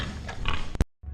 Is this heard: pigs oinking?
yes